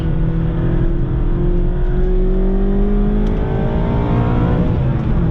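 A 2019 Mazda MX-5 ND2 RF's naturally aspirated engine with BBR exhaust revs up steadily under acceleration, its pitch climbing continuously, loud and close throughout.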